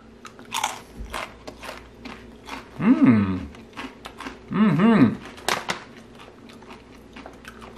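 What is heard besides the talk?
biting and chewing guacamole-flavored avocado crisps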